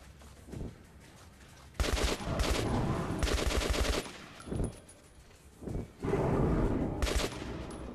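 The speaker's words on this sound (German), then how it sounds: "das waren die letzten Schüsse, die ich hatte" Bursts of automatic gunfire in the video game Metro Redux, loud and close, coming in several separated volleys with short pauses between them and no talk over them.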